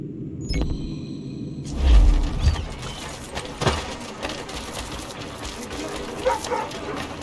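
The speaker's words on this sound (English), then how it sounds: "Godforsaken dogs!" Dogs bark and yip in Assassin's Creed III, with scattered barks and whimpers over a busy game soundscape while voices talk.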